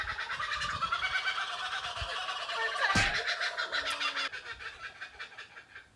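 A bird calls outdoors in hot weather in Cairns, with repeated loud gobbling, fowl-like cries over steady background noise and no talking.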